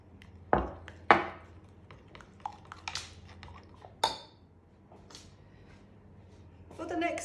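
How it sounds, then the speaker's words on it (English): A utensil stirs melted chocolate and butter together in a bowl, producing scattered clinks and scraping knocks against the bowl, some loud and close, between quieter pauses. "you will just have to stir that until it becomes one delicious mixture of chocolate and butter"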